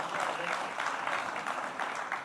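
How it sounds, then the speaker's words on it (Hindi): An audience applauds for the poet Ashok Chakradhar at a live conversation event, a continuous crowd of clapping hands filling the short stretch evenly with no break. "तालियां बजाइए अशोक जी के लिए"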